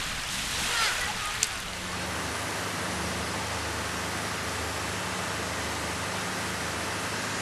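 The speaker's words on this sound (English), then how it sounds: "Waves come and go, leaving the boat swinging." Sea waves rolling against a small fishing boat off the Chrysanthemum Isles, a steady soft wash of water with a brief knock early on, continuous and even throughout.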